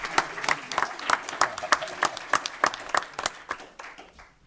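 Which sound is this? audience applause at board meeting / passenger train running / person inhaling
audience applause at board meeting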